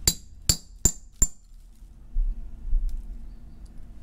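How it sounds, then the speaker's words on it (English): Four quick metallic taps of a hammer on a center punch set against galvanized pipe, sharp and evenly spaced in the first second and a half, then low rumbling handling noise. "we take this punch here and we put it on our Sharpie dot and then tap it with a hammer"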